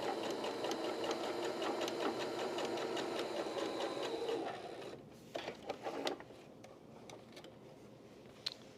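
A sewing machine stitches a seam on quilt binding in a steady fast whir for about four seconds, then stops, followed by light clicks and handling noises.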